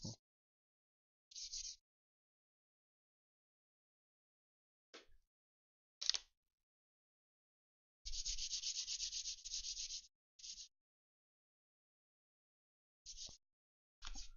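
Wooden UGEARS hurdy-gurdy model parts sanded by hand with sandpaper in a quiet workshop, heard as short scattered rubbing strokes and one longer run of rapid back-and-forth scraping, close and fairly faint with silent gaps between.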